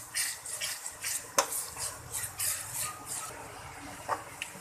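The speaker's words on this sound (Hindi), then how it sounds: "1 मिनट के लिए थोड़ा मैं इसे फ्राई करके" Ginger garlic paste frying in a pan for masoor dal, with light spoon scrapes and clinks against the metal over a faint sizzle, one sharper knock partway through.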